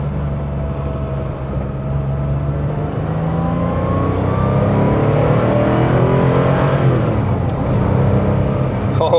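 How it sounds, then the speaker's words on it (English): A 1985 Porsche 911 Carrera with a Fabspeed exhaust accelerates on the road, its engine note rising steadily and loudly from the cabin, continuous, with no talk over it. "With the fab speed, I could be going 30 miles an hour and it sounds like I'm going 100 miles an hour"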